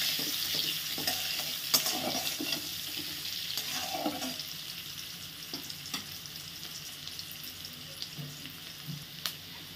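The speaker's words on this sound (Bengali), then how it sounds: "পেঁয়াজ লঙ্কাটা ভাজি।" Onion and chilli frying in a pan for mixed chowmein, a continuous close sizzle with occasional spatula taps and stirring scrapes, gradually easing slightly in loudness.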